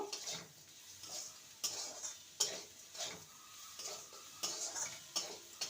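A spoon scrapes and clinks around a pan as sugar and onions are stirred for poha, with repeated sharp metallic taps over a soft sizzle, heard close and without talk.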